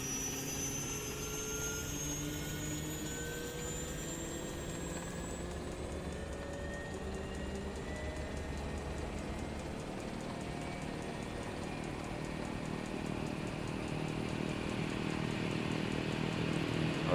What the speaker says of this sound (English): Alright, engine is running.